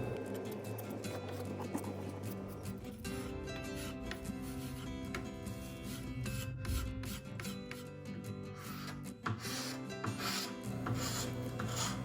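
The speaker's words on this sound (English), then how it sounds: "I'm using a scraper to remove the finish because sanding just wasn't going to really cut it" Scraper rasping thick old finish off a wooden dresser, a steady, close scratching and rubbing that runs continuously throughout with dense texture.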